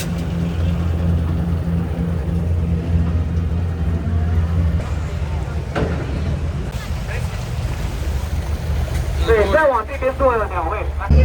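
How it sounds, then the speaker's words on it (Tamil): A long-tail tourist boat's engine running at a pier in Thailand, a loud continuous motor drone close by, with people talking over it and a rougher roar swelling near the end. "ஓகே போட் வந்து ஸ்டார்ட் ஆகிடுச்சு"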